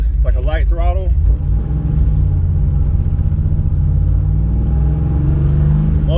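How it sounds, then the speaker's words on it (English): An LT1 car engine swapped to an LS 411 PCM runs at light throttle as a low, steady, close rumble beneath someone talking. "We're gonna do like a light throttle."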